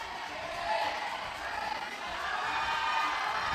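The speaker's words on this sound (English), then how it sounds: "lots of crowd noise" Spectators at a bouldering competition final in Hanoi send up a sustained, fairly loud roar of cheering. It swells and dips slightly and then rises again, heard from within the crowd.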